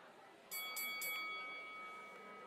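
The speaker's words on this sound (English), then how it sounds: "That's who rang that bell." A ring bell is struck three quick times at a wrestling match, the sharp metallic clangs ringing on with a sustained tone over faint arena noise.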